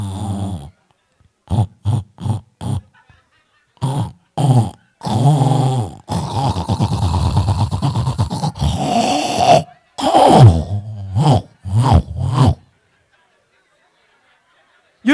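A man snoring in loud, rough bursts, a string of short snorts followed by a long rattling breath and a few more snores, close and separated by brief silences; the snoring is most likely voiced imitation.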